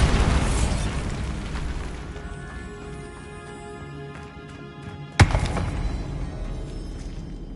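A Bombarda spell explodes in the Hogwarts Legacy video game, a rumbling blast that fades into a sustained ringing tone, then a single sharp crack and thud near the end.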